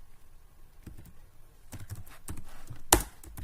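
Scattered keystrokes on a computer keyboard while entering data in accounting software, irregular soft taps close by with one sharper, louder key press near the end, no talking.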